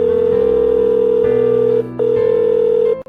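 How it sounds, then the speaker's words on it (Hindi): A phone's ring or tone sounds in a long steady pulse, breaks off briefly, then resumes before cutting out, loud and close with no voices. "एक दिन मोहित ने कोयल को फोन किया"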